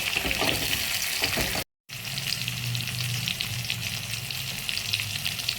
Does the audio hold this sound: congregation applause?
no